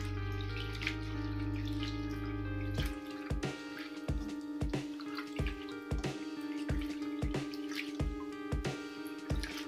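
Fresh mint leaves rinsed under a running kitchen tap, with a steady stream of water, then quiet rhythmic drips and splashes as the leaves are rubbed clean, close and fairly soft.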